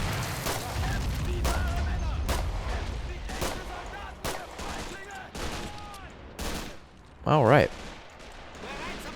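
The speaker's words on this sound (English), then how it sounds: "even some of our machine gunners running out of ammo and switching to handguns" Machine gun and handgun fire in a WWII Men of War: Assault Squad 2 battle, scattered sharp shots and bursts over a rumbling battlefield din, with distant booms and a brief spoken line.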